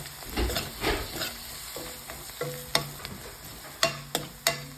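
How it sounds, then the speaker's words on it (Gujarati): Spices such as turmeric, coriander-cumin powder, red chilli and garam masala sizzle in hot oil for garlic palak paneer, with steady frying hiss and several sharp stirring scrapes of a spoon against the pan, close and clear. "એકાદ મિનિટ માટે ઓઇલમાં મસ્ત સાતળી લઈશ જેથી કરીને બધા મસાલા સરસ ચડી જાય"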